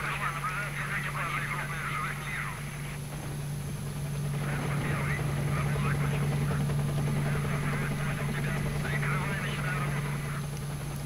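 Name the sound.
helicopter flying in the video game S.T.A.L.K.E.R. Shadow of Chernobyl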